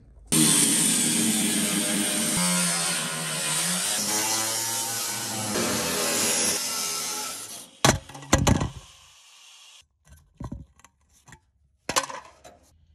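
A bandsaw cuts through stainless steel, a loud continuous grinding whine for several seconds that stops abruptly, followed by scattered clanks and knocks of the metal being handled.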